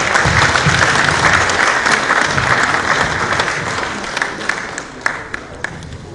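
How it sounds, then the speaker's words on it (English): Sustained, full audience applause after a speech by the Minister of Mines and Steel Development at a conference, loud and continuous at first, then thinning into scattered claps toward the end. "Please another round of applause for the Honorable Minister, Mines and Steel Development."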